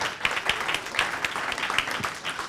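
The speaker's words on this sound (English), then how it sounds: "So please give them a round of applause." An audience gives a round of applause at a Supreme Court preview event, steady dense clapping from a crowd, moderately distant and continuous throughout.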